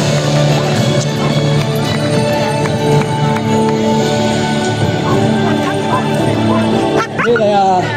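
Horses from a show team enter the arena at the Suffolk South Show, with scattered hoof clops amid a busy outdoor crowd, dogs barking and a loudspeaker voice over steady music; a sharp sweep near the end.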